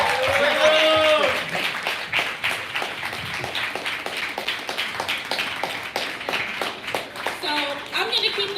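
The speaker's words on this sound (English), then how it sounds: "Can we give him another round of applause?" An audience at a community policy and organizing summit claps in a rhythmic, fairly sparse round of applause, with voices and cheering or whooping audible over it at the start and end.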